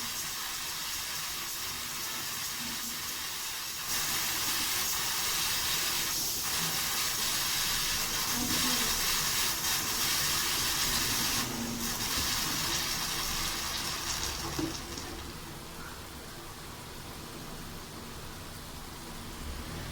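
Pressure cooker venting steam after cooking black chickpea curry, a steady loud hiss that runs without a break and softens near the end, with no voices.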